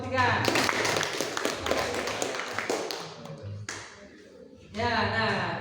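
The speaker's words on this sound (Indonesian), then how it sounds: "Beri tepuk tangan untuk kelompok 3." A classroom bursts into a couple of seconds of dense clapping for a student group after their poetry performance, with voices audible before and after the applause.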